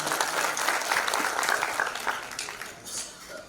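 An audience at a Shahu Jayanti celebration applauds loudly, a dense burst of clapping that holds for a few seconds and then fades slightly.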